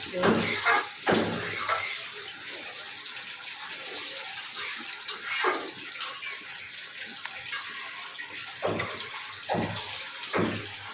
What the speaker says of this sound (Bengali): এখন আমি ঝোলটা দিয়ে দিব